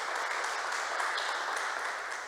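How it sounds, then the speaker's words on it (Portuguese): A steady, muffled wash of audience applause at a women's self-care talk welcomes the speaker, continuous and even for a couple of seconds. "uma grande salva de palmas"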